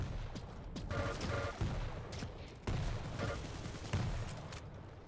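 Heavy machine gun fire in Quake Champions, long rapid bursts of punchy shots broken by short pauses, loud and close and continuous for the whole stretch.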